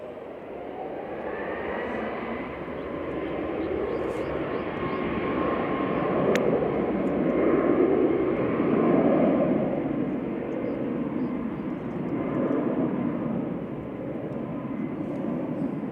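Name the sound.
Boeing 737 Max 8200 jet at Manchester Airport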